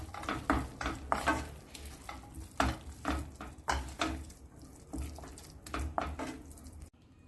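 A spoon stirs sweet obbattu filling in a pan with repeated rhythmic scraping and soft squelching strokes over a faint sizzle, close and fairly quiet, without any talk.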